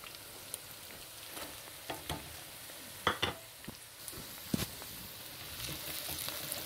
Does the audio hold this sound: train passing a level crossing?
no